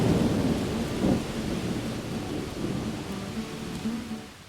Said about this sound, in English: enjoy the lightning and the thunders of this summer storm across the Kansas prairie